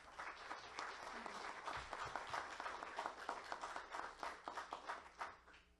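An audience at a lecture on the foundations of democracy breaks into applause for an introduced guest: dense, steady clapping from many hands that grows more distinct and rhythmic toward the end, heard faintly from a distance.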